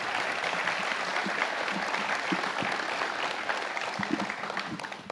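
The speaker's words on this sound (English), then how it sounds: "he deserves a big round of applause for his leadership" An audience at a law enforcement award ceremony applauds the sheriff, steady dense clapping at moderate loudness that holds throughout and tapers slightly at the end.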